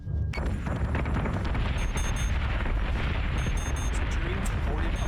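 Ship guns firing in the space battle game Battlestar Galactica: Deadlock: a dense, continuous barrage of heavy booms and rapid blasts, loud and sustained throughout.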